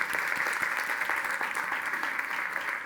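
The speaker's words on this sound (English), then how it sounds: "So clap your hands." Audience at an indoor tech conference opening event in Tel Aviv clapping steadily, a dense continuous wash of many hands that holds at an even level throughout without pause.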